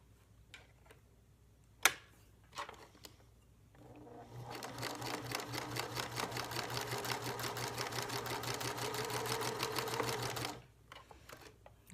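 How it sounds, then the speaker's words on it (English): A sewing machine runs a quick stitch along fabric on a scented hanger, a steady rapid mechanical chatter lasting several seconds after a few soft handling clicks, then stopping abruptly. "I'm just going to put in a real quick stitch right there"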